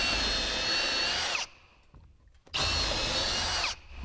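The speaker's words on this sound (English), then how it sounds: "So I'm gonna pre-drill this." A power drill whines steadily at high speed, pre-drilling a hole while installing a garage door, stops briefly with a faint clunk, then spins up again for a second burst.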